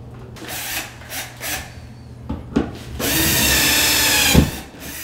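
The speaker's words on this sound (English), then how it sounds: "I'm just using a Phillips head that's already on the power drill." A power drill with a Phillips bit whirs in a sustained burst near the end, driving a screw into sheetrock, preceded by shorter spurts and scraping, close and fairly loud.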